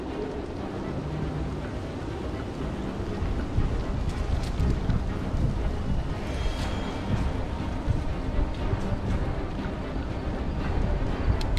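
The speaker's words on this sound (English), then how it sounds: "It's just a windy day, isn't it?" Steady low rumbling wind buffeting the microphone throughout, a continuous broadband roar with no pauses.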